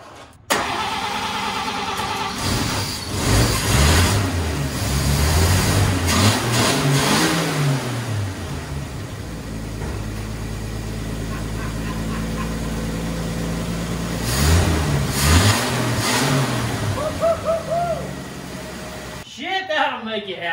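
A 1954 Chevy, abandoned in a field for fifty years, starting and running: the engine catches, revs up in rising and falling surges, settles to a steady idle, then revs again before cutting off, loud and close, with someone talking over it.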